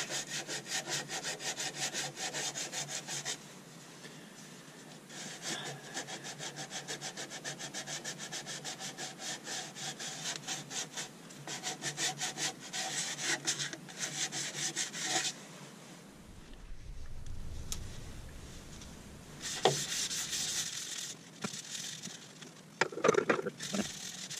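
Hand-sanding the edge of a natural edge wooden bowl, with repeated rasping rubs at close range broken by short pauses and a few knocks.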